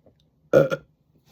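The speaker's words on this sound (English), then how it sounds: "That was like a moist burp." A single short, wet-sounding burp, close and clear against near silence, lasting under half a second.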